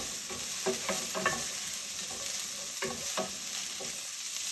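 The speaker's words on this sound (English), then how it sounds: "we are going to caramelize them. So cook them maybe a minute or two" Chopped onions caramelizing in a hot pan, a steady soft sizzle with intermittent scraping stirs, close and moderately quiet with no talking.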